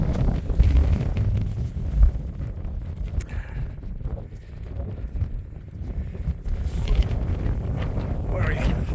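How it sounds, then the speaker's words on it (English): Wind buffets the microphone on Kinder North Edge, a steady low roar and rumble throughout with a person talking over it. "the wind is biting"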